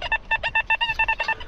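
A metal detector sounds while someone treasure hunts behind old houses: a quick run of about a dozen sharp, loud electronic beeps in an even rhythm, close and alone.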